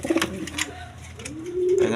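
Pigeons kept for sale, male and female birds, cooing in short low throaty calls, a couple of coos at the start and a longer one near the end, close by, over faint background noise.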